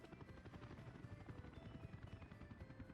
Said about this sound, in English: Hello, helicopters